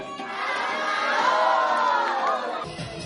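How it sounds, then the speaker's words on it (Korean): A crowd of children in a magic show audience shouts a name together in one loud, sustained unison call that swells and then drops off abruptly. "하나, 둘, 셋 하면 다롱이 한번 불러봅니다"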